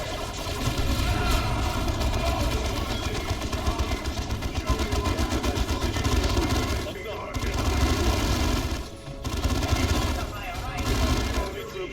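Sustained automatic gunfire from a squad of soldiers in Warhammer 40k Dawn of War II, a dense continuous battle din with engine rumble beneath and voices calling out over it, dropping briefly twice.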